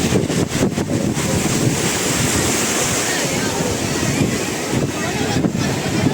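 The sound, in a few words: sea waves at Shivrajpur beach, Dwarka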